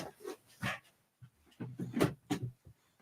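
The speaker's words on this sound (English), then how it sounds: "The dog that was asleep under the desk wants to leave." A dog that had been under a desk pants and whines in short bursts, close by, with irregular breathy puffs and small vocal yips separated by brief pauses.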